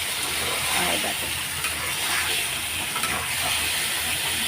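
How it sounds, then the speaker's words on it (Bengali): Spice masala sautéing in a pan for a Bengali fish curry, a steady broad sizzle and hiss with faint scraping as it is stirred, continuous and fairly close throughout. "এবার এটুকু দিয়ে একবারে কষিয়ে নেব ভালো করে কষিয়ে নেব এখন"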